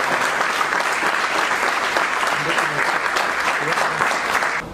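Loud, steady applause from an audience welcoming guests at an event, dense clapping holding at full strength before cutting off abruptly at the end.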